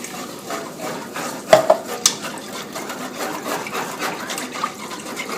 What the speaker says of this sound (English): Now we'll want to stir a lot so we don't have big chunks in there.